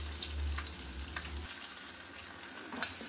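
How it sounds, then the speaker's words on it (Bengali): An egg frying in a pan, a soft, fairly quiet sizzle with faint crackles and a low hum fading after the first moment, no voices. "ডিমটা মোটামুটি ভাজা হয়ে গেছে, উঠিয়ে ফেলবো।"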